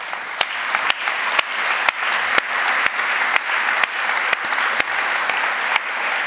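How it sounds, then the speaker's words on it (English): Audience applause for the organizers of a conference talk, a dense, even wash of clapping with sharp, regular claps standing out close by throughout. "why don't you give an applause for the guys who organized all that?"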